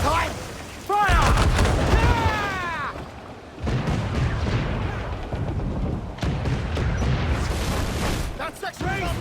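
Ship cannons firing in the Assassin's Creed 4 Black Flag naval battle, loud booming broadside blasts rolling out in bursts amid shouting crew voices and sea-battle din.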